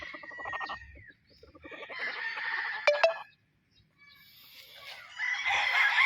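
Sibling gamefowl roosters of the Gull Butcher Mt. Banahaw bloodline crow and cluck nearby in short uneven bursts separated by brief pauses, with a louder cackle near the end.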